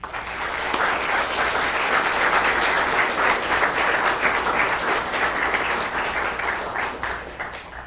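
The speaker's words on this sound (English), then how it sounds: "Let's give them a round of applause." People attending a city council meeting give a full round of applause, steady dense clapping building quickly and fading out after about eight seconds.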